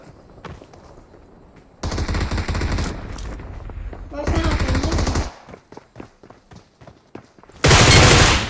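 Bursts of automatic gunfire from across the map in PUBG Mobile on Erangel, loud rapid rattling volleys that start, stop and return, with a final heavy burst close by.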